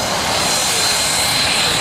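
Loud, steady drone of an airplane engine fills the whole stretch, a constant broadband roar without any break, heard just before a skydive.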